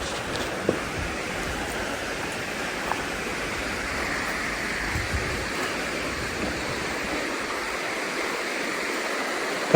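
Steady broadband rushing of a river flowing below a campsite, continuous and even throughout, with a few faint clicks and no talking.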